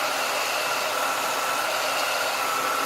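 An AC compressor runs on a 1996 Ford Mustang, producing a steady, close hiss-like whir of engine-bay noise with no change in level and no talk.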